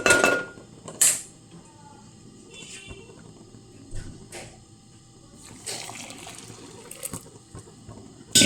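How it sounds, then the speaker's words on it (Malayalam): Water is poured into semolina in a hot pan over a low flame. Sharp metallic clinks of utensils on the pan mark the start, then a soft trickle and sizzle follows with more scattered clatter. "ഇനി നമ്മൾ എടുത്ത് വെച്ചിരിക്കുന്ന വെള്ളം ഇതിലേക്ക് ഒഴിച്ചു"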